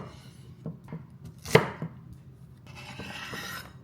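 A sharp knife chops through an onion on a cutting board, several soft cuts followed by one louder, crisp chop near the middle, with faint kitchen noise around it.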